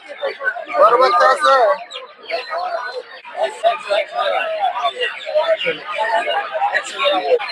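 Chickens and turkeys at a live poultry market in Putia, Narsingdi, clucking and chattering continuously at close range while people talk among the birds.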